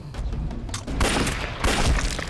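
Gunfire in a wartime Chinese drama: two sharp, loud bursts about half a second apart cut through a tense scene with no speech over them.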